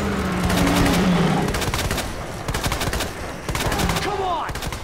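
Rapid bursts of gunfire from the video game Resident Evil 2 during a boss fight, loud repeated shots with brief pauses, an engine-like rumble underneath, and a creature's cries near the end.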